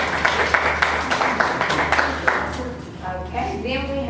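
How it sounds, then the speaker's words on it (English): A small audience at a teen talk event gives brief scattered applause, a few sharp claps for about two seconds, then fading as a voice starts speaking. "Round of applause."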